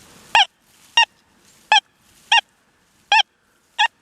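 Six short, bright electronic beeps from a Deus 2 metal detector with an 11-inch coil over a dime buried over 10 inches deep, one after another at a roughly even pace, each clear and isolated against a quiet background.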